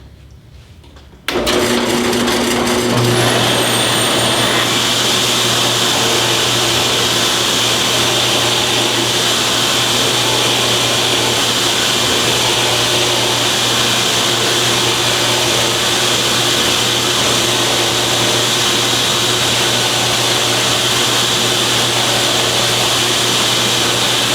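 A loud, steady mechanical whine with a low motor hum kicks in after a second of quiet and runs continuously, a drill press grinding through wood alongside a Drillnado dust collector.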